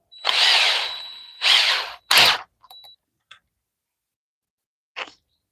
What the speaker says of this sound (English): I'm gonna try a little narrow drill bit for that.